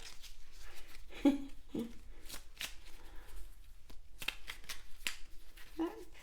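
Cards being shuffled by hand for an oracle card reading, soft riffles and quick papery flicks repeating in short bursts, close and quiet, with a voice speaking intermittently.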